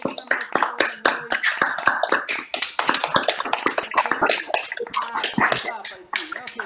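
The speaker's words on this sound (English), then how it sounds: "please clap and make some noise" Clapping at a Python meetup, given as rapid overlapping claps with mixed voices and laughter underneath, lively and fairly close throughout.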